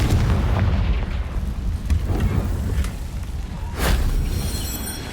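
Confringo fire-blast spells bursting in Hogwarts Legacy: a few dull booms roll through a constant rumbling background, the strongest blast landing near the end, no voices.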